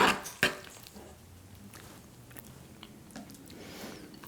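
Someone tastes an avocado dip flavored with black pepper essential oil, giving a couple of close, brief bites at the start, then soft quiet chewing with faint clicks and a light smack near the end.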